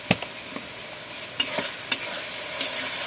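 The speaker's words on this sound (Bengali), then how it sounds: "মিষ্টি দিয়ে ভালো করে নেড়ে চেড়ে নিচ্ছি।" A spoon stirs homemade paneer dalna in a pan after sugar goes in, making a few sharp scrapes and clinks over a soft, quiet sizzle, with no talking.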